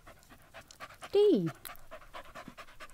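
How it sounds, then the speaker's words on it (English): A dog sound effect in a children's English alphabet lesson: one short, loud panting or whining burst in the middle, with a teacher's voice speaking before and after it. "we have a dog for D"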